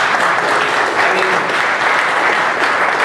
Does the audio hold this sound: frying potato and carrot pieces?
no